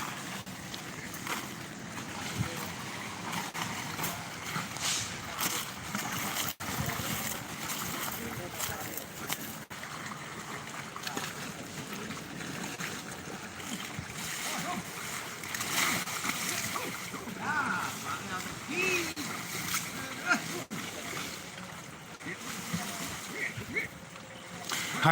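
Elephants wading and splashing into water at an elephant home near Phuket, a steady wash of splashing and churning water throughout, moderately loud with faint background voices.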